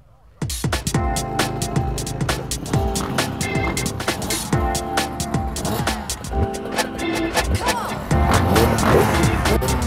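Honda off-road motorcycles ride across a big open field in glorious weather, their engines a loud, continuous drone with rising and falling revs that swells louder toward the end.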